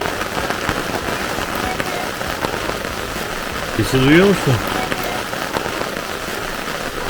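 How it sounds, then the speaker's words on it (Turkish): Steady rain patters on a caravan's hard roof, a continuous dense hiss, with a brief voice speaking over it midway. "Al işte bak nasıl yağmur yağıyor"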